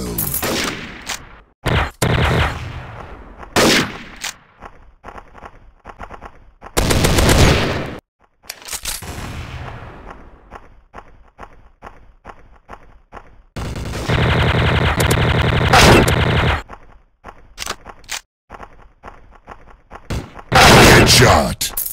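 TMP submachine gun fire in a Special Ops shooter game comes in loud, rapid bursts of closely spaced shots, some long and sustained and others short, separated by brief pauses, with thuds and game voice cues in between.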